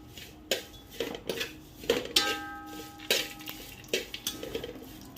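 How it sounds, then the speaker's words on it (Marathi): Fine vermicelli roasting in a pan for kheer, a run of close metallic scrapes and clinks of a spoon against the pan coming in uneven bursts, no voices. "हे शेवाळ्या भाजते मी थोड्याशाच।"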